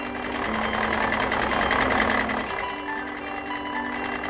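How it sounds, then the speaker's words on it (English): Cartoon farm tractor engine running steadily at close range, a continuous rumbling drone with a slight pitch shift midway, over light background music. "Yes! The tractor!"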